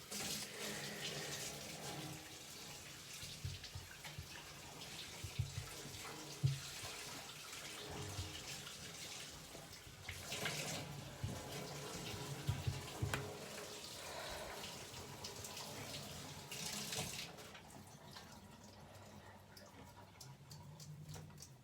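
A tap runs while dirt is rinsed off an item for a snake enclosure setup, a faint, steady rush with a few louder gushes, then it stops near the end.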